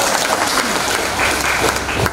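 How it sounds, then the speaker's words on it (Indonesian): Audience applause fills the room at a celebration, a dense, loud, sustained clapping from a crowd lasting a couple of seconds. "Kita tepuk tangan untuk WKRI."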